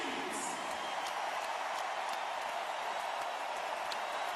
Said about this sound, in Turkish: Ve bütün alkışlar ona.